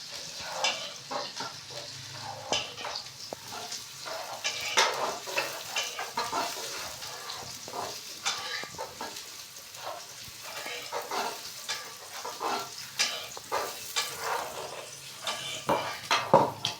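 Chillies frying in a pan for aloo chicken are stirred steadily, with a continuous sizzle broken by repeated scraping strokes and occasional clinks of utensil on metal, close and moderately loud.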